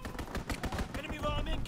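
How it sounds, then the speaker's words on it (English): Rapid bursts of aircraft strafing gunfire rattle through a World War II shooter game scene, short repeated cracks in quick rhythm, moderately loud amid other battlefield noise. "Enemy strafing run, inbound!"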